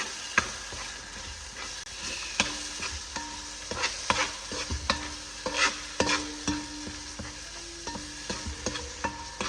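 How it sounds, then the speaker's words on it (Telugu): Chili powder fries in oil in a pan, a soft steady sizzle broken by repeated scraping and stirring clicks of a spoon, close and fairly quiet. "కొంచెం మంచిగా కుక్ అయ్యి ఇప్పుడు ఈ ఆయిల్ అంతా పైకి తేలాలి మంచిగా. 5 మినిట్స్ అలా ఫ్రై చేసుకుందాము."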